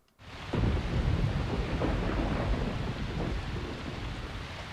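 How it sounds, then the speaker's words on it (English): Steady rain pours with deep rumbling thunder in a rural town setting within Deadly Premonition Origins, a continuous loud downpour starting abruptly and holding without speech. "Feels good to be in the rain."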